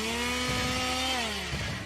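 A voice imitates a whining chainsaw during a Lancer tabletop RPG session: a steady, droning buzz that bends downward in pitch near the end, heard alone.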